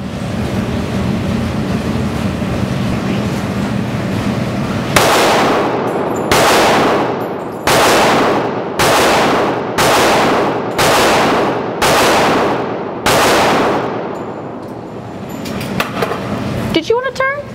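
A Springfield Loaded Operator 1911 .45 pistol fires about eight sharp, loud shots in quick rapid succession, each crack ringing out briefly after a stretch of low background rumble, with a few faint clinks at the end.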